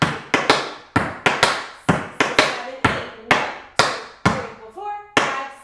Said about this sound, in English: So we have 4 flap heels, 2 open flap heels, 4 flap heels, 2 open flap heels.